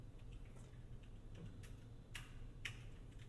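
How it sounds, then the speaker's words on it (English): Faint keyboard tapping in the background, a few scattered clicks and keystrokes over a quiet room hum, distant and intermittent, heard while testing noise cancelling on Bose QC 45 headphones. "You can probably hear some people using the keyboard back there, tapping it really loudly."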